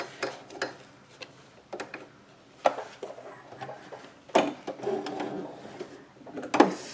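A sewing machine stitches down burlap in short bursts of mechanical whirring. Several separate runs stop and start, loud and close, with quiet gaps between them.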